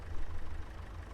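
A John Deere tractor engine running in a farming game, a steady low idling rumble heard briefly and alone.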